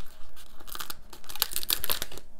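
A sticker peeled off a backing sheet from a Happy Memory Keeping sticker book, a close, crisp tearing and crinkling rasp that comes in uneven bursts for about two seconds, with no voices.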